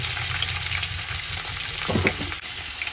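Bitter gourd frying in hot oil in a wok gives a dense, steady sizzle close up, with a brief stir or clatter near the end.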